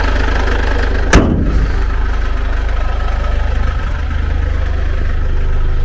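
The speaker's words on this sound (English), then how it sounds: "There you go, you can hear that engine." A 2016 Mercedes Vito van engine idles with a steady low rumble and regular mechanical pulsing, close by, with a single sharp thump early on.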